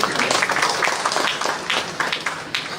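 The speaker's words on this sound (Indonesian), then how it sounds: "mohon tepuk tangannya" Audience applause at an inauguration ceremony in Lampung for a regency head installed as DPC chairman, with a regional governor and district heads present; dense, steady clapping of a crowd carries through without pause.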